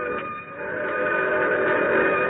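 Steady train sound effect for a 1962 radio suspense drama set at a small prairie railway station, a continuous loud rumbling, whistle-like tonal roar held for the whole stretch with no voices.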